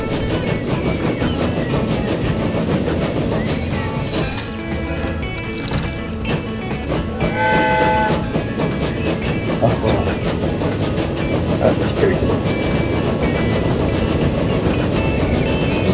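Trains from the Transport Fever railway-building game run along the tracks, a steady loud rumble with rhythmic clickety-clack of wheels and faint hissing that carries unbroken through the whole stretch.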